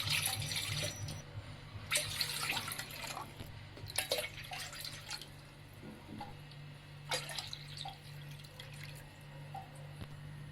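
Water pours into a pan for sugar syrup, a soft trickling and splashing with several brief louder splashes and drips, fairly quiet and close.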